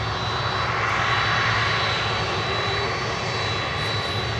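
An aircraft rolls off the runway after landing, a loud, steady engine roar with a faint high whine, continuous and close throughout with no talk.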